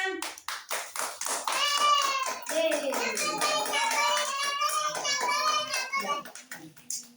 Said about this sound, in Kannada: ಚಪ್ಪಾಳೆ ಕೊಡಿ ನೋಡೋಣ